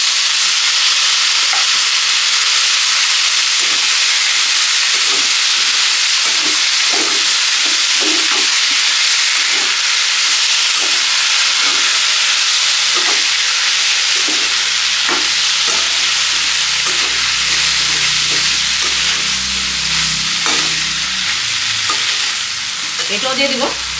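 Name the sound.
peas for ghugni sautéed in hot oil in a pan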